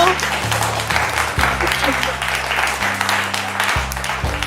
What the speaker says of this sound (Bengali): হাততালি হয়ে যাক টিম সির জন্য।